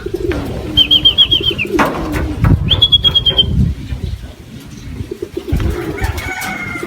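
Racing pigeons cooing at their loft during a race, with several soft rhythmic coo phrases over a busy, fairly close background of fluttering and movement.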